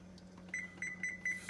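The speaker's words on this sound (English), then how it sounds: "Now I'm gonna set my timer bake time" An oven timer beeps in short, high electronic chirps while it is being set for bake time in a kitchen, about four quick beeps spaced irregularly over a low background hum.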